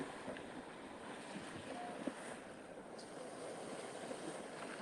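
Soft, continuous wash of ocean water and wind on a New Jersey beach, faint and steady, like small waves lapping with breezy rumble underneath.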